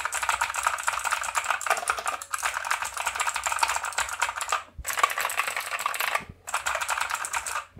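Rapid typing on a mechanical keyboard with Outemu switches produces a steady, close clatter of keystrokes in long runs, broken by two short pauses.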